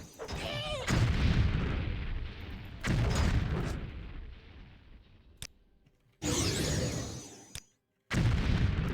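Elemental Burst scroll spell explosions in the video game Morrowind, several loud booming blasts in separate bursts with short silent gaps between them.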